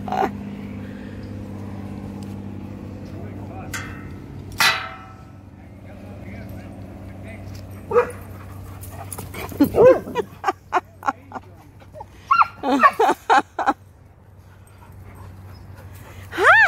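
A Malamute, a Labrador and a Pug play together, giving scattered short barks and yelps, panting and whimpers over a low steady hum, some close, with a voice talking to them in between.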